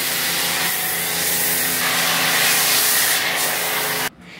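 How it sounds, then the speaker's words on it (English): A foam cannon sprays soap onto a car: a loud, continuous hiss running steadily for about four seconds, then cutting off abruptly at the end. "We're gonna spray that on the whole car."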